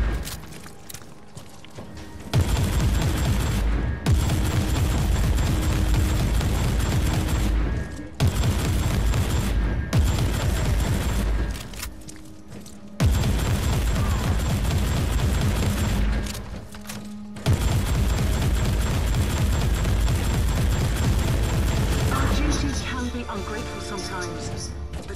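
Rapid, sustained gunfire in the Warhammer 40,000: Inquisitor - Martyr game, long dense bursts of shooting and booming impacts broken by short pauses, loud and up front with some voice mixed in.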